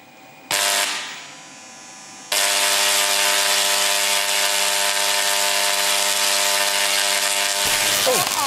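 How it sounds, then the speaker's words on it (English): An inverted Tesla coil discharges onto a car with a loud, harsh electrical buzz that starts abruptly, dips briefly, then surges into a sustained roaring drone lasting about five seconds before cutting off. "seconds before we're going to electrocute a car with 375"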